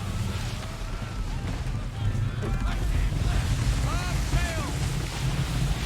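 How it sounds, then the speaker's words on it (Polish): Ocean waves in Assassin's Creed 3 wash steadily under continuous wind, with a constant loud low rumble throughout and faint sounds above it. "Czekaj, czekaj, bo fala."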